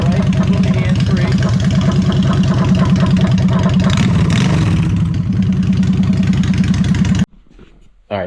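A custom motorcycle with a side-mounted exhaust dump idles loudly and close by, a steady, throbbing, uneven rumble with a brief rev midway, then cuts off abruptly.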